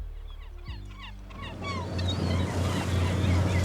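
Ocean waves and a boat added as a sound effect in a video editor: a steady rushing surf that swells louder over a few seconds, with a low motor-like hum underneath and faint bird calls above.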